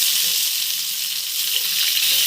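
Dry red chillies, cumin seeds and chopped onion fry in hot oil with a loud, dense, continuous hiss heard up close, steady for a couple of seconds without any voices.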